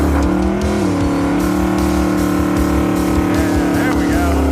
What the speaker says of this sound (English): here comes the Challenger TA